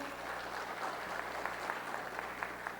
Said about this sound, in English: Please clap your hands if you're here.